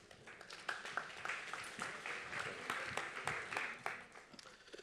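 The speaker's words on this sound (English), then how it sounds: "Let's clap for them again." Audience clapping at the end of a session at the Global Disability Summit, a steady patter of many hands at moderate, fairly distant level with a few sharper claps standing out, continuing throughout.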